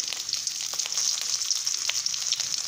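Almonds, cashews and cloves frying in hot fat for jackfruit payasam, a steady close bright sizzle with light crackles and no talk.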